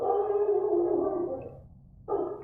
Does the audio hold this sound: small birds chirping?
no